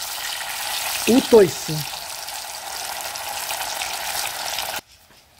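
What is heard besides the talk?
frying cassava in a pan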